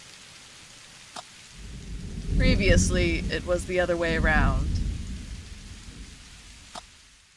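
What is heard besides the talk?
drizzling rain in a video game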